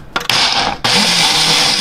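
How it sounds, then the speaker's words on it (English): An electric blender, a model meant mostly for wet mixtures, grinds dry hazelnuts into flour, starting with a couple of short bursts before settling into a loud, steady, close-up whirring roar. "this is a blender and it's mostly supposed to be used for wet stuff"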